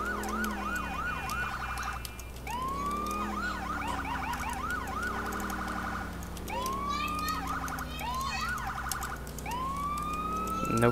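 Emergency vehicle siren from a fire and medic response in GTA IV's Liberty City, wailing and yelping in repeated sweeping cycles, loud and continuous throughout over steady engine rumble.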